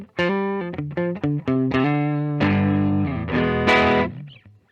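Epiphone Casino hollow-body electric guitar played through distortion and effects, a run of sustained overdriven notes and chords with clear attacks, ringing close and loud with no talking.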